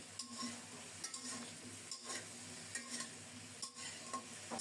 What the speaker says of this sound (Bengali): আলু ফুলকপি একটু সময় নিয়ে খুব সুন্দর মতো ভেজে নেব